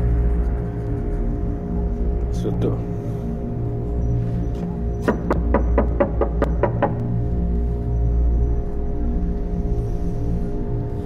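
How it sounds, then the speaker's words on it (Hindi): A quick run of about eight sharp knocks on a house door lands in a tight burst, after one earlier tap, over a steady low droning background. "वो उसके घर का दरवाजा खटखटाते हैं"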